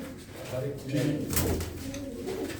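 Pigeons coo softly at a rooftop loft, low burbling calls rising and falling through the moment while people talk nearby.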